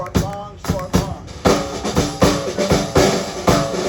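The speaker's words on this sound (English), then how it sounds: "now you're clapping like a maven" Live audience clapping in unison to a freylach klezmer rhythm at an outdoor Jewish festival, steady sharp claps in a long-short pattern over band music, fairly close and loud.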